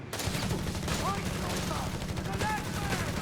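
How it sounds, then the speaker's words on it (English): Company of Heroes 3 battle with rattling machine-gun bursts and gunfire crackling steadily, dense and continuous, with brief voice-like fragments over it. "the weasel went kaboom! Everything's exploding!"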